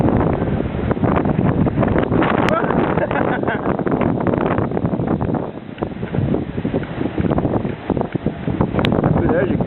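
Hurricane wind gusts roar and buffet the microphone in a continuous, loud rush that swells and dips, with voices faintly mixed underneath.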